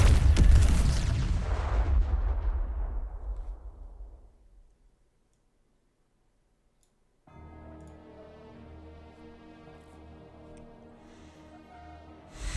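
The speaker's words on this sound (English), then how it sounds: "Main cannon output is normal, confirming target destroyed." A main cannon in the video game Arknights fires at a target with one heavy, booming blast whose rumble fades over several seconds. A stretch of silence follows, then a soft tonal, musical passage.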